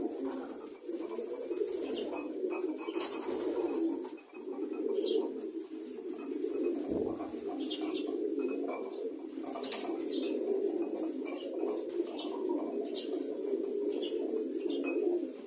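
Pet pigeons eating grit coo continuously in a low, overlapping murmur, heard close, with light pecking clicks and occasional faint chirps mixed in.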